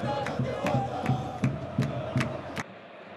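Fluminense supporters crowd noise in the packed Morumbi stadium during a Brasileirão match, a steady roar with rhythmic rising bursts, as if chanting or clapping, that cuts off abruptly near the end.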